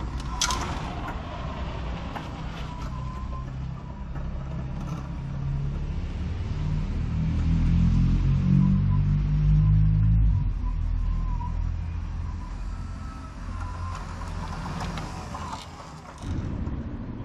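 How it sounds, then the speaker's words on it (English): Electric drive motors of the bigbot robot running, a low rumbling whir with mechanical creaks that swells and fades steadily throughout, heard fairly close in a quiet room. "You hear the motors."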